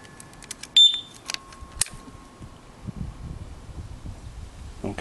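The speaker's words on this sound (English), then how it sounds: "One fucking loud alarm." A Triumph Sprint 955i motorcycle being rebuilt sets off its alarm: one loud, sharp electronic beep, followed by a few fainter chirps against a quiet background.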